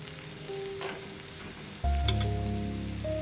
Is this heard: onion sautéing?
yes